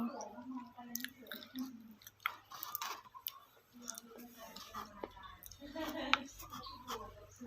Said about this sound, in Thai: เคี้ยวด้วย